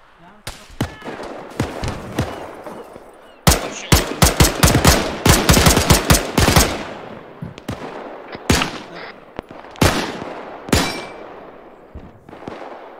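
Rapid bursts of .30-06 rifle fire in an Arma 3 rooftop battle against rioters, loud close volleys and single sharp shots spread throughout, with voices talking between them.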